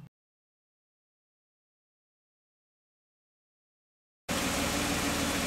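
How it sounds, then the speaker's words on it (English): A car engine, its oxygen sensor showing fault code P0134, starts idling abruptly after a long silence and gives a steady, close, broadband rumble for just over a second at the end. "I just fired up the engine"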